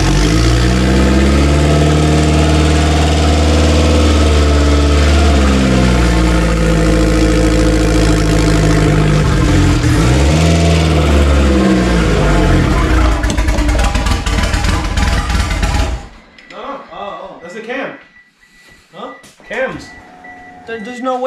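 Built Mitsubishi DSM engine with HKS 272 cams idling choppy right after start-up, a loud lumpy, uneven rumble close by, then it cuts off and people talk in Spanish and English.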